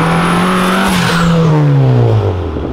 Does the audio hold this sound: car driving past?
yes